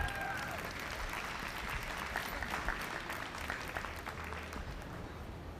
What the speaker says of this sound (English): Get another round of applause for our intermediate showmen here today.